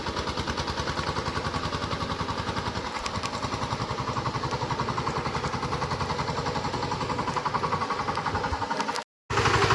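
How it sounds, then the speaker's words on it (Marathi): A tractor works a flooded paddy field, churning the mud for rice planting; its engine chugs steadily and loudly up close with an even pulsing beat, cutting out for a moment near the end. "बघा आमच्या भावाने ट्रॅक्टर घेतलेला आहे आता. मळी लावायची आहे. चिखल करत आहे, चिखल करतो."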